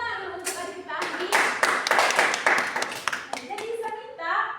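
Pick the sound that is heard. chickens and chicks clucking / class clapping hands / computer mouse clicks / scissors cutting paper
class clapping hands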